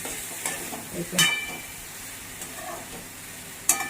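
A raw banana dish, with salt just added, is stirred in a hot pan, giving a steady soft sizzle of frying food broken by a few scraping stirs and spoon clicks, with no voices.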